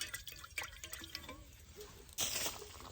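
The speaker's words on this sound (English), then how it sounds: "just to pour some water in that bad boy. Slosh it around." Water sloshes and drips inside a French press being rinsed of old coffee grounds, quiet and close, with a louder splashing burst near the end.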